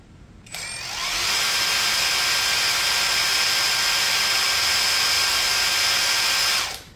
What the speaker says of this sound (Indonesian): ini kita akan coba juga di mode auto. Kita lihat ya berapa peaknya atau maksimalnya.